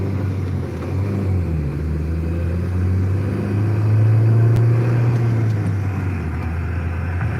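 A manual-transmission car pulls away as the clutch is let out, its steady low engine rumble swelling slightly midway and holding close and continuous, with no talking.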